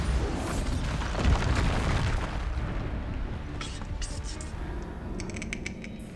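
Bombarda spell explosion in the video game Hogwarts Legacy, a deep booming rumble with a heavy low thud that swells and fades, followed by faint clicks and crackles.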